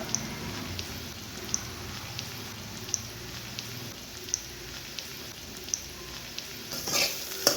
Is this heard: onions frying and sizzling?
yes